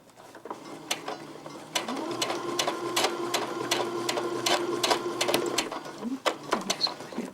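Sewing machine stitching beaded fabric, a steady close mechanical whirr with rapid needle clatter that starts and stops, running alone without speech.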